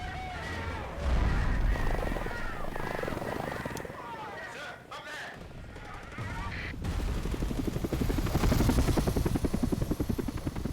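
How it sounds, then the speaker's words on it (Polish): Heavy Chinook helicopters in the video game Not for Broadcast, a loud steady rotor roar with bursts of gunfire, growing denser and more intense toward the end, with some voices mixed in. "Chinooki w taką akcję to jest błąd. To są ciężkie helikoptery"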